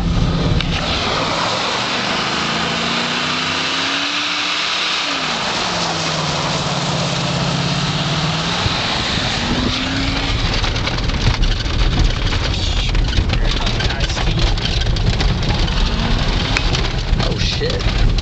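A pickup truck engine held in first gear while driving, a loud continuous drone that rises and falls in pitch, heavy wind rumble across the microphone, and voices talking now and then.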